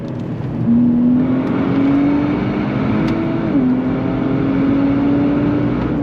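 A 2025 Nissan Z Sport accelerates hard under throttle, its engine note climbing steadily and then dipping briefly at a gear change before pulling on, loud and close from inside the car.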